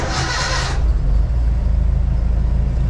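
Datsun 1200 ute (Nissan Sunny truck) engine catching and starting on a dyno after the fuel pump primes, a brief loud broadband burst settling into a steady low rumbling idle, close up.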